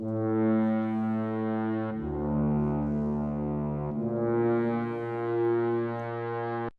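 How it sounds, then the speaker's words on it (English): Sampled orchestral horns from a purchased sample pack play sustained brass chords that shift pitch every couple of seconds, loud and full with a slight swell, with no talking. "So here's some of the horns."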